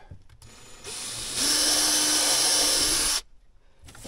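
A power drill bores through a plastic dash panel in a Land Rover LR4 while a Ram Mount is fitted, making a close, loud whine that ramps up and holds for about two seconds, then stops abruptly.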